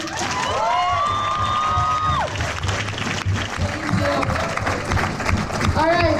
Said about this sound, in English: One more applause for Chago.